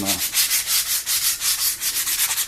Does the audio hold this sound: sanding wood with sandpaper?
yes